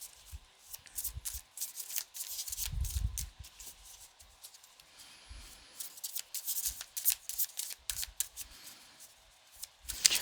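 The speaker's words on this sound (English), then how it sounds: "I'll probably still be shuffling by the time you get back." Repeated riffling and soft slapping of tarot cards being shuffled close by, in irregular bursts with brief pauses between.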